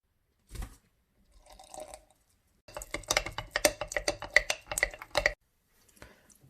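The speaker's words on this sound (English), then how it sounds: "Now we are going to feed it again as usual, 30 grams of flour and 30 grams of water." Water poured into a homemade flour-and-water sourdough starter while feeding it, heard as short wet bursts and then a longer splashing, squishing pour, close and fairly quiet.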